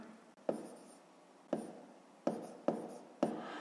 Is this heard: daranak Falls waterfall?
no